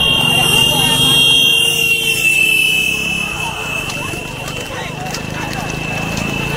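Hooves clatter amid a noisy race crowd, with a shrill continuous tone above, as horse-drawn carts race past in a final heat; the din fades slightly, then builds again.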